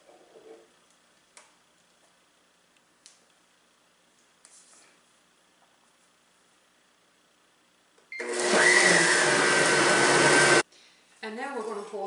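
After a few quiet clicks and taps, a blender roars on for a couple of seconds spinning vegan Alfredo sauce, then stops abruptly and briefly starts again.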